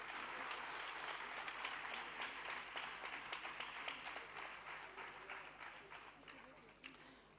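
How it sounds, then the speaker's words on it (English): A large audience applauds continuously after Gita chanting at a Gita quiz event, many hands clapping together, gradually tapering slightly toward the end. "A big round of applause to all of them."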